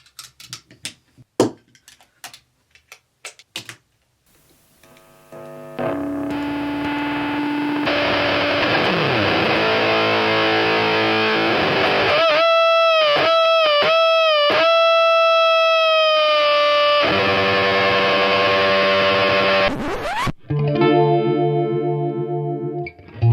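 Electric guitar played through stacked overdrive pedal combinations, loud sustained distorted chords and bending lead notes after a few sparse plucks, ending in a bright gritty strum.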